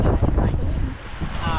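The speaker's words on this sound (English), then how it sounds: "Wind." Gusting wind buffets the microphone on a beach, rumbling in uneven bursts with surf in the background, while people talk faintly nearby.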